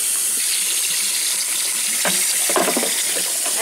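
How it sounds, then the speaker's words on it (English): Warm water pours from a tap into a stoppered sink, a loud, steady rushing flow with slight changes in splash as the basin fills. "and I fill the sink up with some warm water"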